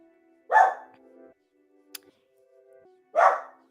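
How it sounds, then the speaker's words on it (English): A dog barks twice indoors, each bark a single loud, close woof, roughly two and a half seconds apart, with quiet room sound between them. "He's still barking."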